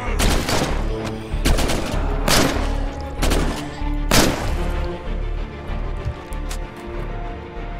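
Gunfire in the zombie survival game State of Decay cracks out in several sharp, loud bursts at an uneven rhythm over a steady low background rumble.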